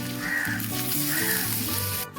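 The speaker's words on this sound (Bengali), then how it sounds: "পেঁয়াজটা অর্ধেক ভাজা না হতে হতেই আমি টমেটো কুচিটা দিয়ে দিচ্ছি" Onion and chopped tomato fry in a hot pan, a steady bright sizzle with soft crackling, close and continuous without any talk.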